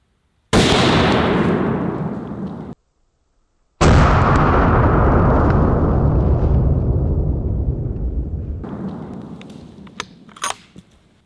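A .50 BMG rifle fired at a sledgehammer target outdoors: two deafening close blasts, the second rolling into a long fading rumble that trails off over several seconds, followed by a few faint knocks.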